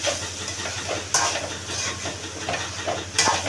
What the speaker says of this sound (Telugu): బాగా కలుపుకోవాలి. కొంచెం బ్రౌన్ కలర్ వచ్చేంత వరకు వేపాలి.